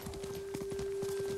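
Horse hooves clip-clop in the samurai video game Ghost of Tsushima, a quick, uneven run of close hoof beats over a steady background hum, with no speech.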